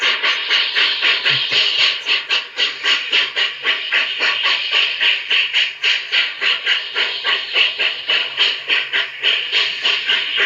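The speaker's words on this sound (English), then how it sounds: "The 483 is uncoupled from the train for servicing." A train rolls steadily through a rail yard with a rapid, continuous pulsing rhythm of wheels and machinery, loud and close throughout with no voices.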